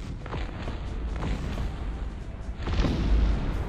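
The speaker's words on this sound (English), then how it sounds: "Open fire again, kill that Cuirassier and some another." Muffled booms and scattered pops of musket volleys and artillery fire from a battle between Saxon forces and Swedish cavalry in the video game Cossacks 3, irregular and moderately distant, over a low rumbling background.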